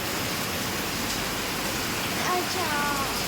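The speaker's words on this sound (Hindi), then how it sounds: "कितनी तेज़ बारिश है।" Heavy rain pours steadily as a dense, even hiss throughout, with a few faint tonal chirps near the end, while waiting out a downpour on the Vaishno Devi pilgrimage.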